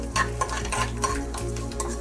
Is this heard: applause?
no